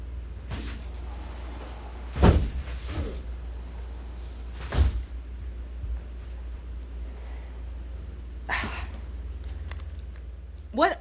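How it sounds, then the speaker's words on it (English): An indoor door being pulled shut, with a couple of solid thuds and shorter knocks spread over several seconds above a low steady hum, with background rustling and no clear speech. "let me close this door"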